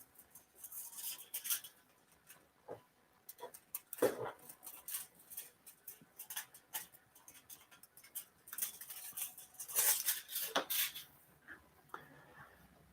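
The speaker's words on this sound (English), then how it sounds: "I'll use some scissors here to just kind of cut out a square that would be more than enough to fit in there" Scissors cutting a square out of material at a crafting bench, a series of close, irregular snips and rustles with some handling clatter, no talk.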